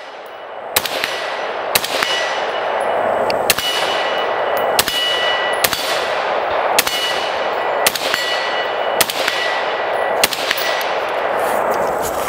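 Rifle shots from a 6.5 Creedmoor hitting a steel target, about ten sharp metallic rings spaced roughly a second apart, each with a short ringing decay, over a steady outdoor background with no talking.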